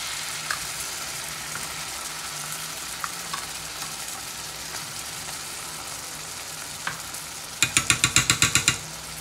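Ground pork sizzles steadily in a frying pan as tomato puree goes in, then a quick run of about eight sharp scraping stirs of the spatula rises near the end. No one speaks.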